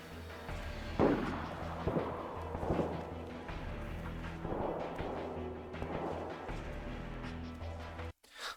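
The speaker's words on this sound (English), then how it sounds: "these gunshots that you're hearing in the distance are not real" Muffled gunshots from a roleplay video game thud at irregular intervals, sounding distant over a steady low rumble until a sudden cut near the end.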